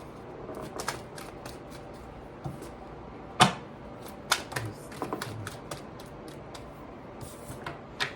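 Tarot cards being shuffled in a January 2022 Aries reading, a run of quick soft riffling flicks and taps with a few sharper snaps, close and fairly faint with no talk.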